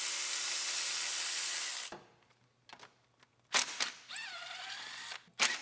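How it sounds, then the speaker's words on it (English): Hand tools clank and rattle against a Subaru Forester's A/C compressor as it is unbolted, with a few sharp metallic knocks and a short squeaky ratcheting passage following a steady whirring hum that cuts off early. "Now we can start unbolting our compressor."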